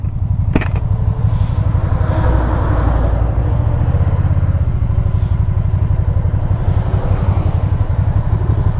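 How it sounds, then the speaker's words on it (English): A 2012 Can-Am Spyder RT-S three-wheeled motorcycle engine runs loud and near with a steady throbbing rumble, revving as it downshifts and matches RPMs, under continuous road and wind noise. "You hear how it downshifts and it matches the RPMs?"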